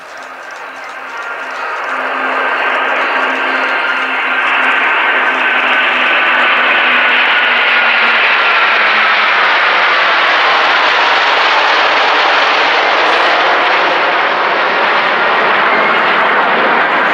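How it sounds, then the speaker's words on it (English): Battle of Britain Memorial Flight vintage aircraft in a flying display pass overhead with a loud, sustained propeller-engine roar that swells in after a couple of seconds and holds steady, with a droning tone that slowly shifts pitch. "goodness knows how many times I've seen the Battle of Britain Memorial Flight display over the years"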